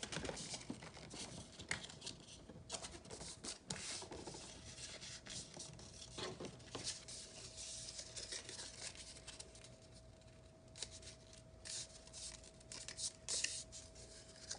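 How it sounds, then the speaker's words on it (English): Someone folds a strip of printer paper, about 1.5 by 8.5 inches, in half. Soft rustling, rubbing and crisp creasing sounds come from close by, quiet and continuous, with no talk. "I'm going to fold it in half."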